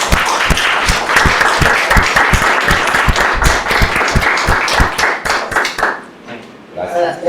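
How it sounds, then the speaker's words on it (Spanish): An audience claps for the organisers at the close of a Spanish-language academic seminar on replicability in science, loud close clapping with distinct individual claps that fades out near the end as a voice speaks. "Yo sí les doy un aplauso"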